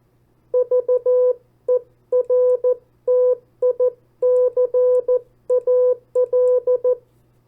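A single steady tone beeps the word vertical in Morse code, short dots and longer dashes grouped into letters with brief gaps, clear and alone over a faint hum.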